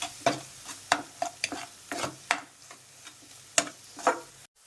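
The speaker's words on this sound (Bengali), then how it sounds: "কিছু দিয়ে এখন খুব ভালো করে এটাকে নাড়াচাড়া করে প্রথমে আরেকবার কষে নিতে হবে।" Spice masala for an egg curry is stirred and fried in a pan: a spatula scrapes and taps in quick, irregular strokes, about a dozen distinct scrapes over a low sizzle, close and clear without voices.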